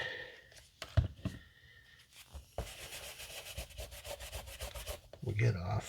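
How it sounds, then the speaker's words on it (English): Short, close scraping and rubbing strokes on a small plastic part from a 1:1400 scale U.S.S. Enterprise NCC-1701-C model kit, a rapid rhythmic burst in the middle, with a few brief soft thumps. "I was rubbing the wrong spot there."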